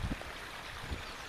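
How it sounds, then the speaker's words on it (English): A small waterfall on a country walk gives off a steady, close rushing and splashing wash of water, continuous and even, with no voices over it. "waterfall"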